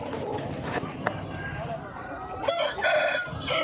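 A country rooster crows loudly at a Nallapadu native chicken market in Andhra Pradesh, with hens clucking and a busy crowd murmuring and talking around it.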